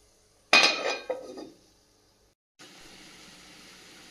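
A metal lid is set onto a cooking pot of ridge gourd curry with a sharp clattering clank and a quick rattle that fades within a second, followed by quiet and then a soft, steady simmering hiss.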